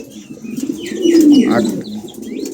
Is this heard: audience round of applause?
no